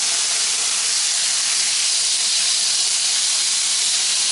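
Chicken pieces sear in a hot pan, making a loud, continuous hiss close up with no pauses or voices.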